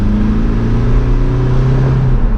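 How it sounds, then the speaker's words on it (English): A VW MK4 TDI diesel wagon accelerates in second gear, its engine drone loud and close from inside the car, rising gradually in pitch with no talking. "2nd gear and go."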